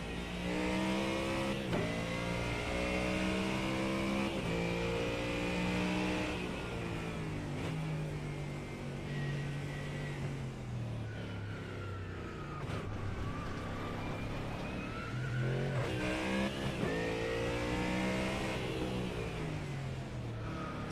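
An iRacing race car laps Imola on a wet track, heard on board with a loud, continuous engine note rising and dropping through gear changes and braking.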